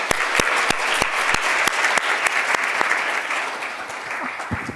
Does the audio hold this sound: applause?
yes